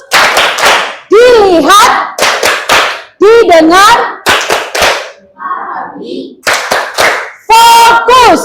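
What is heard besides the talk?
rhythmic "tepuk fokus" class clapping chant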